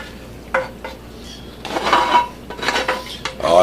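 Hot olives are dumped into a skillet and stirred, with scattered clinks and clatter against the pan over a light sizzle, ending in a louder rattling scrape.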